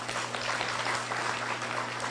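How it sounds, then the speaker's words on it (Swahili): An audience at a community forum in Southern California applauds in a steady, continuous wash of clapping with a low hum underneath. "Mujipigie makofi."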